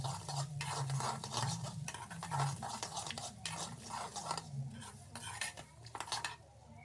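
Spices roasting in a dry pan for village-style chicken curry while a spoon stirs and scrapes repeatedly against the metal, a soft crackle beneath the rhythmic clatter.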